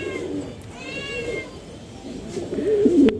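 A pair of satin pigeons make soft cooing and warbling calls up close, with a short rising trill early on and a louder burst of cooing near the end.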